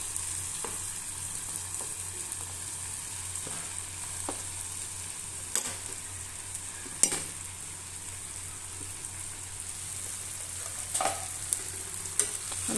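Soaked puffed rice is stirred and mixed in a hot pan, giving a low continuous sizzle with occasional sharp scrapes and taps of a spatula against the metal.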